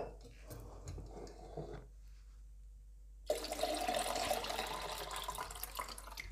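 Kombucha poured into a bottle, arriving partway through as a sudden, steady splashing pour that continues to the end after a quieter start.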